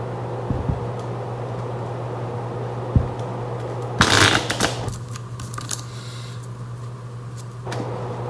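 Tarot cards being shuffled nearby in a couple of quick riffling bursts over a steady background hum, with a few soft taps and clicks.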